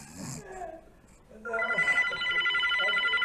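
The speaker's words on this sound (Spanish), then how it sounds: "Ay, tengo que coger el teléfono." A telephone bell starts ringing partway through in a bright, sustained trill after a stretch of people talking, and keeps going loudly to the end.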